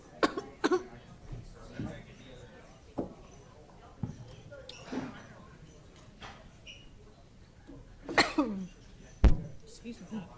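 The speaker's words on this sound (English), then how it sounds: "I'm coughing into the mic." Several sharp coughs close to a microphone at a school district governing board meeting, scattered irregularly with quiet pauses between them, the last few loud and abrupt.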